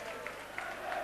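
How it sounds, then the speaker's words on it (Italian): Applause from a football stadium crowd in a Livorno–Pisa match as a substituted player leaves the pitch, a distant steady wash of clapping under the broadcast, with a few sharper claps standing out. "gli applausi che sentite adesso sono per Ninkeri che abbandona il rettangolo di gioco"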